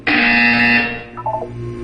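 A loud electronic buzzer blares in the Portal 2 video game during a mandatory wellness exercise, one sustained harsh tone lasting under a second, then fading into quieter tonal game sounds.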